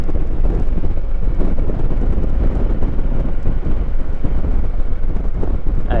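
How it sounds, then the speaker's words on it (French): A strong crosswind blows across a cyclist riding through the Bardenas desert, buffeting the microphone with a constant loud, rumbling roar for the whole stretch, with no break and no voice. "Un vent latéral assez fort."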